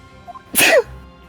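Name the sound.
sneeze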